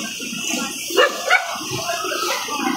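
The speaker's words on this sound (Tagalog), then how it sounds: "dami pa mga aso" Dogs on a littered street in Manila give two short barks amid a noisy outdoor background, fairly close but not loud.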